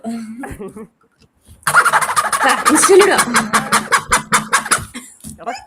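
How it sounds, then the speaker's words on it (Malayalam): A bird gobbling and clucking in fast, loud repeated bursts, close by, after a short stretch of talk and a brief pause, with voices chattering around it. "കോഴിന്റെ സൗണ്ടാണ് കേൾക്കണേ"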